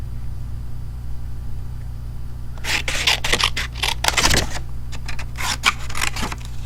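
Scissors trimming a paper toadstool cutout, a burst of close crisp snipping and rustling paper strokes in an irregular cluster, over a low steady hum.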